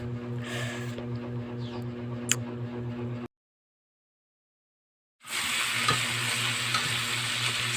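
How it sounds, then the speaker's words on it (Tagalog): Shrimp fry in a small, crowded wok with a steady sizzle and scraping stirs. The sound cuts to silence for about two seconds, then returns louder and brighter. "Hinahalo-halo natin para mix yung mga sangkap niya."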